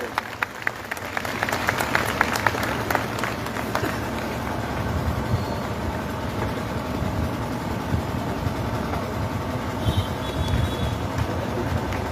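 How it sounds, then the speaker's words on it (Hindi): Crowd applause at an outdoor protest rally over vandalism of churches, welcoming a bishop to the stage; broad, steady clapping under engine-like rumble and noise, continuous and fairly loud throughout. "जोरदार तालियों के साथ हम उनका स्वागत करें।"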